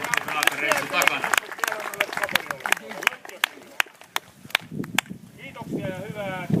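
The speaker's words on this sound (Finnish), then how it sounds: "Isot aplodit näille herroille" Applause for the top six men's finishers after an 11 km race at an outdoor award ceremony in Teuva, Finland: a crowd claps in a steady patter of sharp hand claps that thins toward the end, with some voices mixed in.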